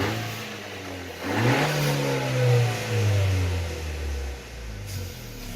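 A 2018 Honda Accord with its muffler deleted revs up from idle, its raspy engine note climbing and falling through a few strong pulls, loud and close, with a steady rumbling idle between them.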